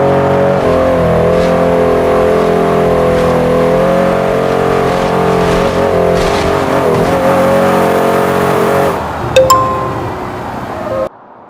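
A Rolls-Royce in a video game drives over a long row of speedbumps, its engine holding a loud sustained tone that wavers and shifts pitch, then breaks into a brief burst of clattering and skidding near the end.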